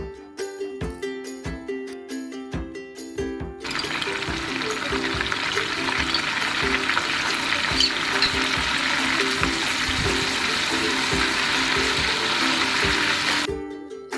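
Salted water poured into hot oil of a banana chips fry makes a sudden loud, broad sizzling hiss that holds steady for about ten seconds, following rhythmic clicking sounds and fading out near the end.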